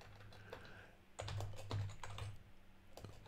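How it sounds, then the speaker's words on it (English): Typing on a computer keyboard: a close, quiet burst of rapid clicking keystrokes over a low steady hum, with no talking. "I'm going to type it in."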